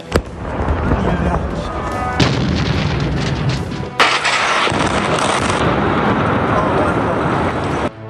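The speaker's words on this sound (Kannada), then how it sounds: "ಟೆಹರಾನ್ ಬಳಿಯ ಆಜಾದಿಯ ಬೃಹತ್ ಕಟ್ಟಡವನ್ನ ಸ್ಫೋಟಿಸಿದೆ" Missile strike explosions hit a large building in the Azadi area near Tehran: loud, dense rumbling booms with sharp new blasts around the start, middle and later on, and a continuous roar throughout.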